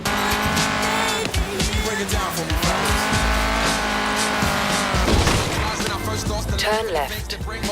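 Ford Mustang accelerating with tires squealing, sustained loud engine roar and squeal mixed with music or game sound throughout, heard alongside a voice talking.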